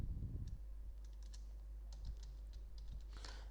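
Typing on a computer keyboard while a CV is drafted in Canva: scattered light key clicks in small bursts, fairly faint and close, over a steady low hum.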